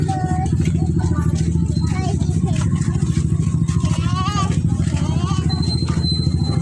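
A motorcycle engine runs steadily and close by, a constant pulsing chug throughout, with voices talking over it.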